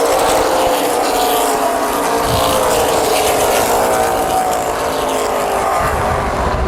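Race cars roar around the oval at Kil-Kare Speedway, a loud continuous engine drone that swells and sweeps as the pack passes, with no talk over it.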